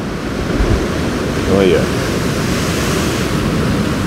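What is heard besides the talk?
ocean surf and water cascading down rocks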